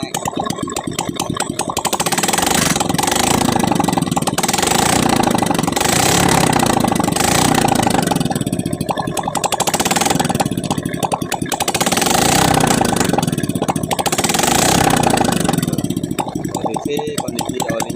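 A Honda Beat injection motorcycle with its valve cover open runs steadily, its engine revved slightly in a loud, close, continuous buzz with gentle swells, while a voice talks over it.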